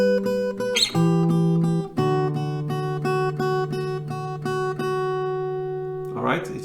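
Acoustic guitar picking the intro melody of a song, clear single notes ringing out in a steady line, with brief scrapes of string noise at the start and end.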